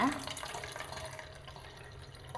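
Soaked tamarind water for rasam is strained, giving a continuous splashing, trickling pour of liquid at close range that runs steadily and then eases off, with a voice talking over it.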